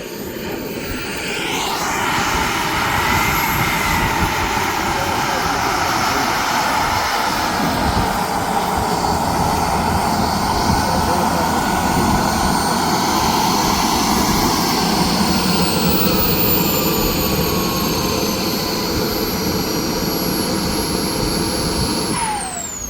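Model aircraft at a scale flying competition passing overhead with a continuous turbine-like whine and rushing roar, holding steady then fading at the end as it flies over a windy ridge.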